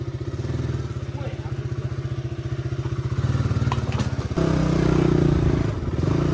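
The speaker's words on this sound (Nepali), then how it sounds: "यहाँनिर अगाडि चाहिँ बाइक चलाइरहेछ हाम्रो।" A motorcycle engine putters with a steady rhythmic thump, then revs louder as it rides on, with light clattering over the drone.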